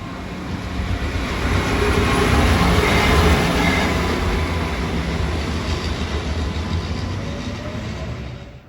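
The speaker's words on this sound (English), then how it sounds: "The next train type was the diesel Endeavour train." A diesel NSW TrainLink Endeavour train from Bathurst rolls past a Sydney station platform, with a loud, sustained rumble and wheel noise. The sound swells toward the middle and fades slightly as it moves on, with no voices.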